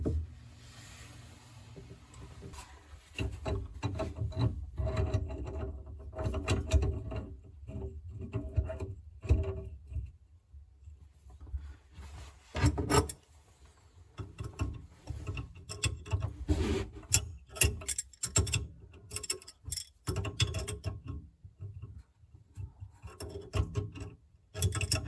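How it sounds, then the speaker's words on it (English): Screw being loosened and a multi-turn water valve handle worked off, with intermittent close scraping, rubbing and ratcheting metal clicks in irregular bursts and pauses, no talking. "Loosen the screw of the valve handle and remove the valve handle."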